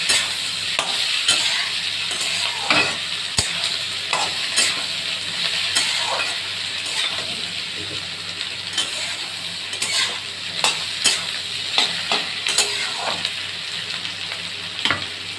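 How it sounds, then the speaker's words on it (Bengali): Potatoes fried until reddish, with chopped onion and tomato, sizzle steadily in oil in a pan for a fish chachari, while a utensil stirs and scrapes in irregular bursts close by. No one speaks. "আলু লাল করে ভাজা হয়ে গেছে, এর মধ্যে আমি পেঁয়াজ টমেটো কুচি দিয়ে দিয়েছি।"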